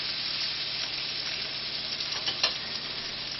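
Onions sizzle in a pan alongside elk liver, a steady, moderately quiet frying hiss with a brief clatter near the end, no voices.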